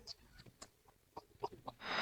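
Soft, scattered clucks from brooding hens, quiet and close, with a brief rustle at the end.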